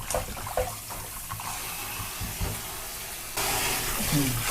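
Pork ribs are rinsed under a running tap for a final wash in a kitchen sink, with a steady close splash and hiss of water that swells louder near the end.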